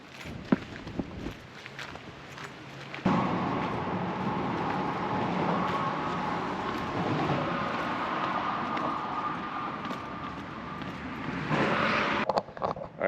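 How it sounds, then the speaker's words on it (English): A drone flies over a canyon along the Pecos River in Texas, its steady whirring hum rising about three seconds in and holding at a constant level to the end, with some wind and handling noise. "So I'm gonna fly the drone here."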